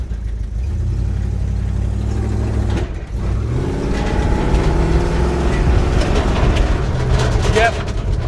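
A 1980s Ford Bronco with a 351 V8 revs hard while moving, a deep rumbling engine note climbing in pitch, dipping at a gear change, then pulling up again loud and close, with voices in the cab.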